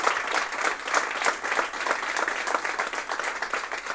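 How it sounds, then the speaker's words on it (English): A hackweek event audience gives loud, sustained applause, many hands clapping densely and close for several seconds without speech. "Thanks for the big hand of applause"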